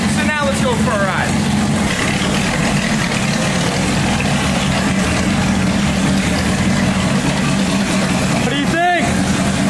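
A supercharged, slammed 1965 Ford Mustang engine idling close and loud, a steady deep rumble running throughout, while a person speaks briefly over it.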